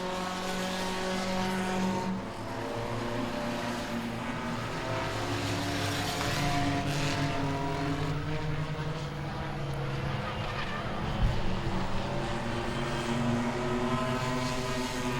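Race cars running laps at Langley Speedway during an enduro, one a Dodge Stratus, their engines droning and overlapping steadily throughout with no pause.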